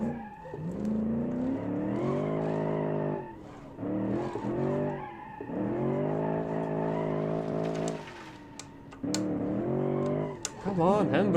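A car in the BeamNG driving game revs hard in sustained tonal bursts while its handbrake is pulled for a drift, the engine note climbing and dropping repeatedly with brief gaps, loud and close.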